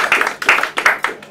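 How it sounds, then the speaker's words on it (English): Audience applauding a volunteer at a magic show's linking rings routine, a short burst of close, bright clapping with rhythmic pulses over about a second and a half. "Give her a clap."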